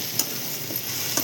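Peanuts, green chillies and garlic sizzle in a pan with softened onion and tomato, a steady bright frying hiss with a couple of faint ticks from the pan, no talking.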